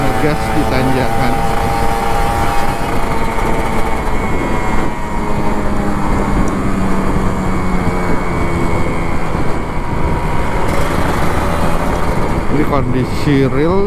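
A 2-stroke Kawasaki Ninja RR 150 motorcycle revs as it climbs a hill on a city shortcut near Senayan, Jakarta, with a loud, continuous engine note rising and falling under the rider's talking and wind noise.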